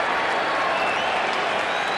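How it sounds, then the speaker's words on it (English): A sellout crowd of more than 44,000 applauds at a Brewers–Reds baseball game, a dense, loud, steady wash of clapping and crowd noise filling the whole moment. "Largest regular season crowd this ballpark has seen in its 20-year history."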